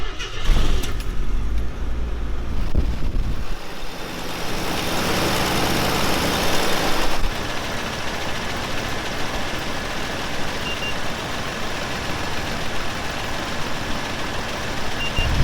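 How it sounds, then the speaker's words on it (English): A parked 1977 AMC Pacer with a fried transmission idles steadily indoors in a museum, a continuous close engine drone throughout, with a brief louder rev or clatter near the start. "So the car's been running for about 10 minutes now"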